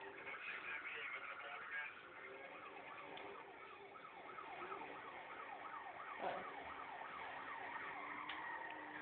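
A police car siren wails in a video game, its fast repeating yelp rising and falling steadily over muffled game engine noise and talk.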